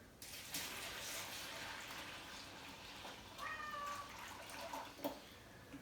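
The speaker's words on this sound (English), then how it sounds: "That's Leo meowing over there, wants a little action on the camera." A cat meows once, fairly faint and a little distant, over a steady background of running water.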